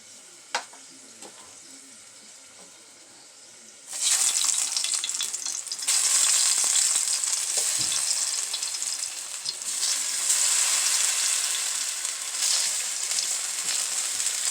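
Quiet crackling at first, then plantain pieces drop into hot oil in a pan and a loud, steady sizzle of frying takes over, up close with occasional stirring scrapes.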